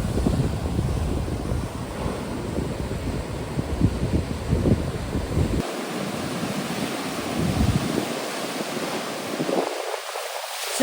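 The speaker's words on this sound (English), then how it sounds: "Since the monsoon started already, the sea was rough." Rough monsoon surf pounds Cherai beach in Kerala, a loud continuous roar of breaking waves mixed with heavy wind buffeting the microphone, with no voices.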